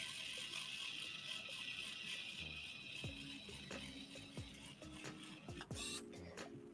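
A handheld 3D pen extrudes plastic filament with a faint, close mechanical whir, broken by light rattling clicks and small ticks, quiet and steady with no voices.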